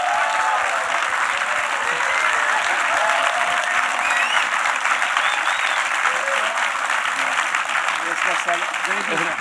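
Sustained applause from a live audience at a film event welcoming a guest, dense clapping steady and loud throughout with crowd noise.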